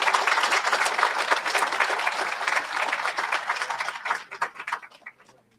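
Audience applause for a congresswoman at a February graduation ceremony, a full round of clapping from a large crowd that holds steady and then thins out and fades over the last second or so.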